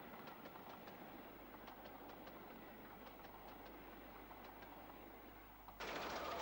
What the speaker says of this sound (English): the returning train descends at Kingswood Junction towards Bristol St Philip's carriage sidings